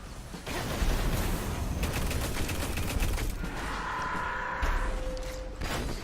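Rapid gunfire and rocket blasts strike the player in the Destiny video game, a dense, loud barrage of overlapping bursts and impacts lasting the full six seconds, with a higher whining tone near the end.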